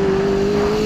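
McLaren 675LT supercar on a race track, its engine holding a loud, steady drone without a break.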